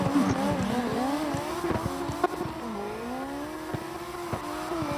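A drift race car slides through a corner in a round of a drift competition, its engine droning with shifting revs while tires squeal steadily, loud and continuous throughout, with no commentary audible.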